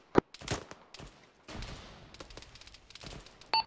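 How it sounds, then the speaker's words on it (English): Video game gunfire rings out in sharp bursts, one loud close shot followed by scattered quicker volleys and a rattling stretch of rapid fire, with no talk over it. "but not the guy that's shooting right now"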